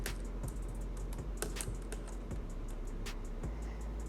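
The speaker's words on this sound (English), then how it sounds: "Here is a little type check." Fingers type on a wireless computer keyboard at a desk, a quick run of light, close key clicks over a constant low hum, with no one talking.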